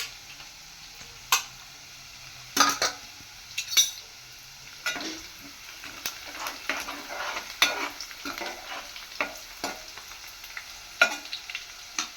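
Phodni tempering roasts in a pot for sambar, with a soft background sizzle broken by irregular metallic clinks and scrapes of a spoon stirring against the vessel, close by.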